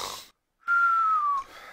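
A voice imitates snoring with one drawn-out, wheezy, whistling tone that lasts under a second. It starts after a short silence and trails off into softer breathy noise.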